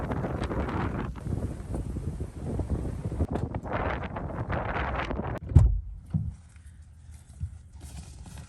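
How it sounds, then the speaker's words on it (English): Wind shaking a rooftop tent, heard from inside as rumbling gusts and flapping fabric rustle, strongest at first, then one loud thump and a calmer, quieter stretch. "the wind picked up, and the tent is now shaking away and blowing"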